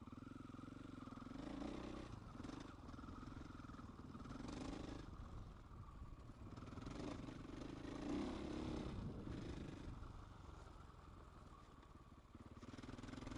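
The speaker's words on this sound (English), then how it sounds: "Such a fruity engine, I love it." An engine runs steadily for the whole stretch while a vehicle crosses rocky terrain, with a loud, rough drone that swells in places but shows no sharp revving peaks.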